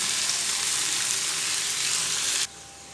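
Potatoes and onions fry in a pan, a close, loud, steady hiss and crackle that continues unbroken and then drops suddenly to a quieter level near the end.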